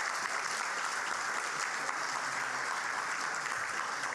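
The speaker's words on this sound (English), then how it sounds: "Give them another round of applause." Steady, full applause from an audience at a mayors' debate, an even wash of many clapping hands sustained for several seconds without a break.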